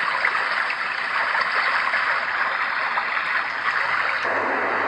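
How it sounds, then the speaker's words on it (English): A brook babbles steadily, a constant rushing and gurgling of flowing water with no pauses and no talking. "babbling brook,"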